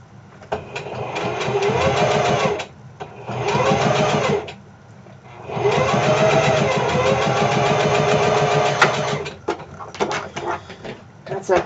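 A home sewing machine stitches fabric in a sewing room in a few sustained runs broken by brief stops, ending in short choppy bursts, with a voice talking faintly in the background.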